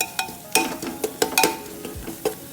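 Meat masala for egg biryani is stirred and fried in a pot, with a soft sizzle under repeated scraping strokes of a spoon against the metal, close and irregular, no voices.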